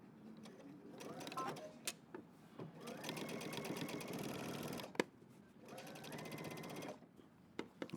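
Sewing machine top stitching a jeans jacket at a long stitch length, two rapid mechanical runs of stitching with a pause and a sharp click between, close and clear.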